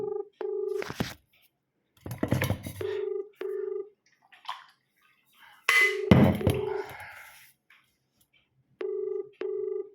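An outgoing phone call rings unanswered, the ringback tone sounding in repeated paired beeps with silent gaps between, interrupted midway by louder clattering handling noise.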